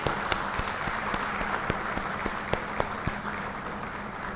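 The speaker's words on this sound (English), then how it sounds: "give them a nice round of applause" A session audience gives the professors a sustained round of applause, with dense, even clapping from a hall crowd held at a moderate level from start to finish, with no talking on top.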